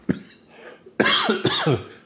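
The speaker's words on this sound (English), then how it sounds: "I cough my lungs out" A person coughs several times in quick succession, harsh and close, with short pauses between the rough bursts.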